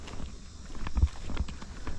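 Horses on a trail at a conservation park give soft, irregular hoof clops over a low rumbling outdoor background, a few muffled thuds close by and no talk.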